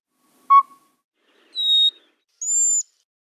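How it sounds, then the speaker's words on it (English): Three separate recorded bird whistles play one after another in a quiet setting, each a clean sustained tone that steps higher than the last, from a low short note to a mid whistle to a high final one. "Listen to how the tone quality changes from low to high as we go from the lowest whistle to the highest whistle here."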